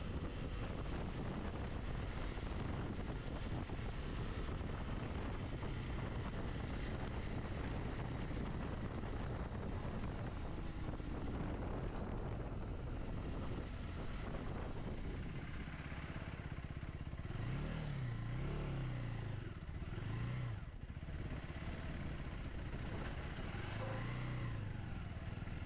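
A KTM Adventure 390 motorcycle eases off speed while pulling into a highway toll booth. Its engine drones under heavy wind buffeting on the microphone, with a few falling pitch sweeps near the end as it slows, and no talking.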